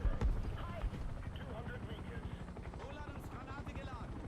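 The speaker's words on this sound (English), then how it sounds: "Enemy helicopter." An enemy helicopter in the War Thunder tank game gives a quiet, steady rotor thumping under constant engine rumble and battlefield noise.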